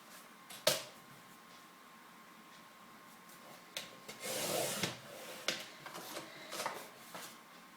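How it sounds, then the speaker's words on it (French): Orange paper being cut for a handmade album, giving soft rubbing, rasping cuts with a sharper snip near the start and a louder burst of cutting midway, close and fairly quiet with no talking. "Je vais prendre un basil orange et je vais découper"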